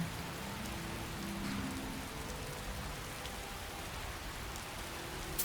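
Steady rain falls in the video game Skyrim, a soft, even patter of drops hitting surfaces, faint and continuous with no break or voices.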